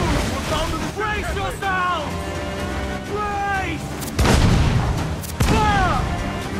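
Heavy booming broadsides from enemy cannons in Assassin's Creed IV Black Flag, two loud blasts near the end over crashing sea surf and wind, with shouting crew voices throughout.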